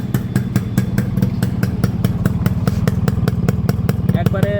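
A Yamaha RX 100 motorcycle's engine runs steadily nearby with a thick, rapid two-stroke pulse and some mechanical clatter, loud and continuous throughout, with a brief squeal near the end.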